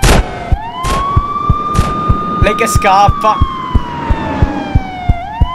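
A police siren wails in GTA with a rising, sustained tone, loud and close, over steady rhythmic thumping, while someone talks briefly over it.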